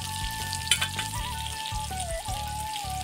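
Eggplant slices fry in a small amount of oil, giving a steady close sizzle and crackle with a few clinks of utensils, and a faint tonal hum running underneath.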